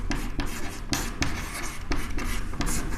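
Pen writing on paper during a geography practical lesson, steady scratchy strokes with brief pauses between words, close and fairly loud, no voices.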